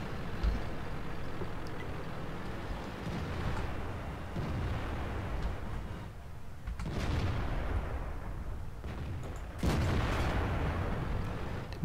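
A heavy tank gun fires in World of Tanks, with booming blasts standing out over a steady rumbling engine and battle noise. Two big reports come several seconds apart.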